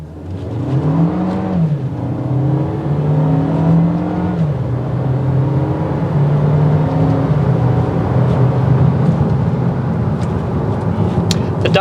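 Engine of a 2022 Volkswagen Taos SE with 8-speed automatic in Tiptronic mode revving up through gears, pitch rising and dropping at shifts, over constant loud road noise inside the cabin.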